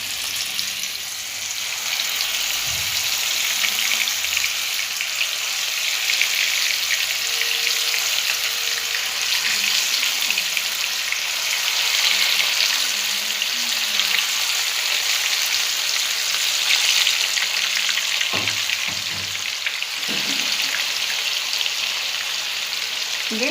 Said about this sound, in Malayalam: നമ്മൾ സവാള ഫ്രൈ ചെയ്ത ആ വെളിച്ചെണ്ണയിലേക്ക് നമ്മൾ ചിക്കൻ വെച്ച് കൊടുക്കാം